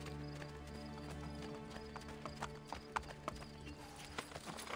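Hooves clip-clop in a quick galloping rhythm from a horse in the video game Assassin's Creed Brotherhood, with a neigh and steady game music underneath.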